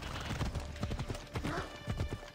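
Horse hooves clip-clopping in Assassin's Creed Odyssey as a horse rides into a crowded town, a steady close rhythm of hoofbeats with faint background ambience.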